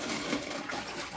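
Water pours steadily into a turtle tank, a continuous close splashing rush lasting about a second with no talking.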